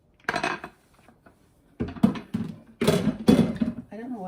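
Potatoes, meat and onions going into a pot for cholent, a Jewish stew: several thuds and clattering bursts in quick succession, close and fairly loud, with a voice speaking in between.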